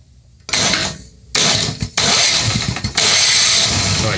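Engine of a John Deere Frontier snowblower turning over and catching in several loud bursts, cutting out briefly between attempts before settling into a steady running roar.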